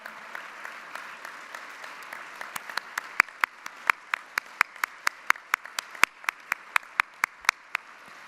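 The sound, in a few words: audience applauding the AACSB staff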